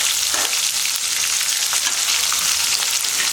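Onions frying in a pan for tanni sambar, a steady close sizzle with occasional stirring scrapes over the 3 seconds, no voices.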